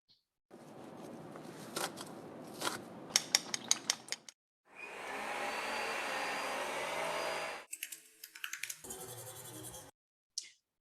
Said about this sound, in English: chopping some vegetables, mixing in a bowl, turning on a vacuum cleaner, typing on a keyboard, and then brushing one's teeth